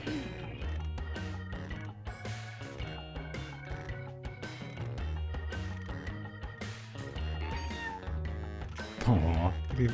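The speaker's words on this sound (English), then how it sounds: "I like that when you're the kitty, you get a meow." A cartoonish cat meow sounds in a Jackbox party video game, set over busy game music while several people talk and laugh.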